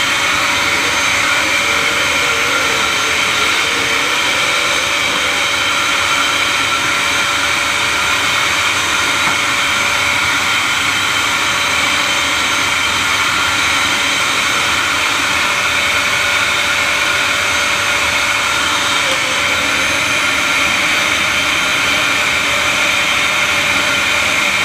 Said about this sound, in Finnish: Mä oon tänään valinnut tällaisen Dysonin ja nyt mä sit seuraavaksi nopeasti kuivaan mun hiukseni.